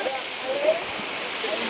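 Munjuluru waterfall in a forest, with rain falling, pours a steady, broad rushing roar that fills the whole moment without pause. A faint voice seems to murmur beneath the constant water noise.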